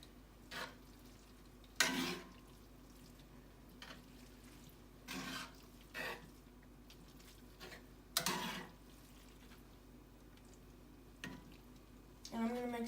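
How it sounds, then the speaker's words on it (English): Fettuccine noodles being stirred and flipped in sauce in a pan, heard as soft, irregular wet scraping and squelching bursts spaced apart over a quiet, faintly sizzling background, with a low hum throughout. "So I'm flipping the noodles like my mom told me to"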